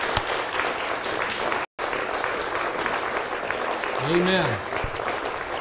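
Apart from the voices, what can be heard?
audience applause for those who served in the armed forces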